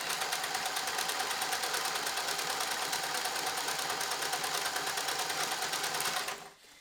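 A sewing machine stitches steadily through denim while mending trousers, a fast even mechanical whir running close and continuous for about six seconds before cutting off abruptly.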